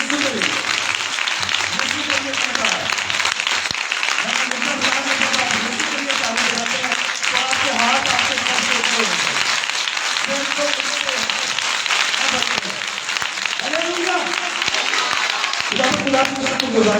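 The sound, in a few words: audience applauding loudly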